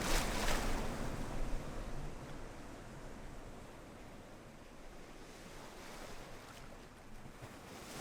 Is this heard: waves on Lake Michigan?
yes